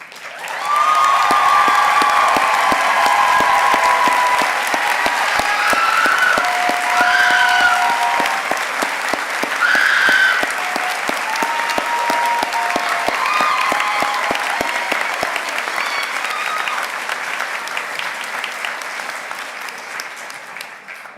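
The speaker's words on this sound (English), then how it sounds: "Winners, please stand for a round of applause." Sustained applause from a commencement crowd as graduating award winners stand, a broad roar of clapping that holds steady for about twenty seconds, with faint indistinct voices and whoops mixed in before slowly tapering.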